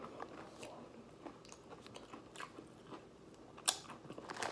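Baked pretzel twists are bitten and chewed up close, giving quiet, irregular crunches and crackles with one sharper snap near the end, with no talking over them.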